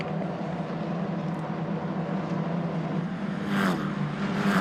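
Italian F4 race cars at Misano circuit, heading into turn 1 at over 200 km/h, heard as a steady engine drone with a louder car sweeping past near the end.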